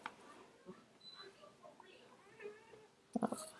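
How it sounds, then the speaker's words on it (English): Two pet cats scuffle right beside the microphone, with scattered hisses and yowls over a quiet room, then a sharp, louder burst of squalling near the end. "My cats are fighting right next to me."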